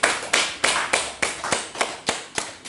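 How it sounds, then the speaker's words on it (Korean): A church congregation claps in unison during a Korean Sunday service, about nine sharp, evenly spaced claps in a slow steady rhythm, close and clear with nothing else heard. "우리 주님께 감사의 박수 올려드리겠습니다"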